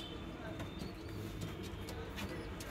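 Fulshira pigeons coo softly inside their coop, low throaty calls murmuring faintly under someone speaking in Bengali.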